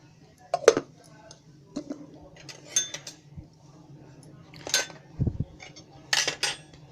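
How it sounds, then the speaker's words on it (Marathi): Spice paste ingredients for stuffed large green chilies, a Marathi fried chili dish, being mixed in a bowl: scattered light clinks and scrapes of a spoon against the bowl, close and intermittent, with a low kitchen hum beneath. "तो आता एका भांड्यात मी सर्व मिक्स करणार आहे,"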